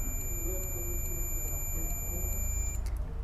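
A digital multimeter in continuity-test mode gives a continuous high-pitched electronic beep that holds steady for nearly three seconds before cutting off, over faint room noise.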